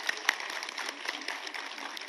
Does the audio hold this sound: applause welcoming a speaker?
yes